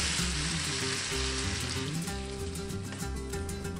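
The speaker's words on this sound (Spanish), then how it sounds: "Finalmente vertemos la salsa que acabamos de preparar" Sauce poured into a pan of lightly browned meat and onion for a northern Mexican arriero stew sets off a loud, steady, close sizzle that runs unbroken, with low tonal sounds beneath it.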